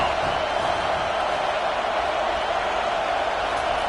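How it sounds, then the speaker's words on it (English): A home football crowd roars steadily during a third-down play against Jacksonville, a dense, continuous wash of cheering and yelling that holds at an even level throughout. "Here comes this home crowd as the defense tries to get off the field on 3rd down."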